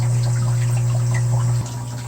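Water running steadily into aquarium tanks from a hose or pump, a continuous close gush with a low motor hum that cuts off abruptly near the end, leaving a quieter flow.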